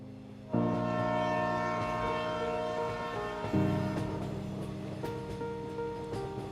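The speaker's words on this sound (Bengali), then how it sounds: "যথাসময়ে ট্রেন স্টেশন পরিত্যাগ করল" A passenger train pulls out of a station, its horn sounding in long sustained tones over the steady rumble and clatter of the carriages, loud and close.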